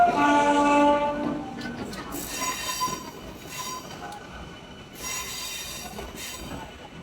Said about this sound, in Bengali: জানলা পাশে একটা সিট পেলাম, এবার ট্রেনটা ছাড়ছে।